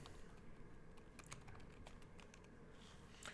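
Fast, light keystrokes on a computer keyboard tap out a chat reply in quick bursts, faint and close in a quiet room, with no voices.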